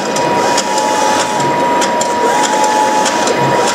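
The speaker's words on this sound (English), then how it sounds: "the printer automatically goes to cleaning if it's necessary. Otherwise, it just keeps printing." A Mimaki JV100 wide-format inkjet printer runs continuously with a steady mechanical whir and a high tone, its print head carriage ticking in regular passes, loud and near.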